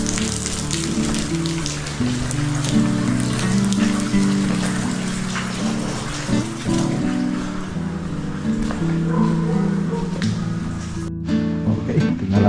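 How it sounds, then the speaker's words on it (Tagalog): Steady rain falls at a construction project site in Itogon, Benguet, a dense broadband patter that continues throughout, with faint voices and music underneath. "Ulan."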